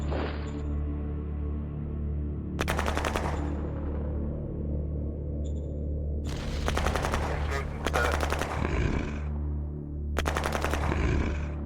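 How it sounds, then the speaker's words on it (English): Bursts of rapid automatic gunfire from the strategy video game Shadow Empire, coming in several loud, dense volleys separated by quieter stretches over a constant low rumble. "We're taking fire!"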